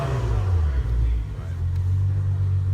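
A 2017 Maserati Levante runs indoors with its exhaust cutout baffles open, giving a loud, steady low rumble that holds for a few seconds with a brief dip, as people talk over it.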